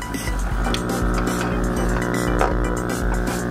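A Suisaku Suishin SSPP-3S aquarium air pump running at maximum, a steady loud electric hum with buzzing overtones and faint bubbling, continuous throughout.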